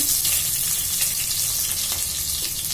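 Chopped onions frying in hot oil for a Tamil Nadu–style jackfruit biryani, giving a steady, dense sizzle that holds evenly throughout with no voices.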